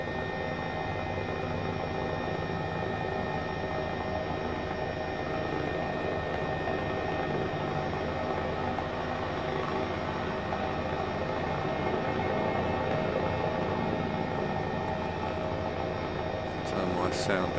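An H135 helicopter in Microsoft Flight Simulator 2020 drones with a steady, loud turbine whine and rotor hum during takeoff, unchanging and continuous throughout with no breaks.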